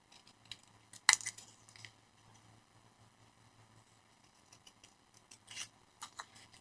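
Scissors snip through paper leaf shapes, one crisp, sharp cut standing out early, followed by quieter scattered snips and paper rustles at close range in a quiet room.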